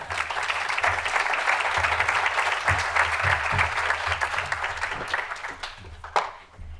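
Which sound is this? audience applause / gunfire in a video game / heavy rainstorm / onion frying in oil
audience applause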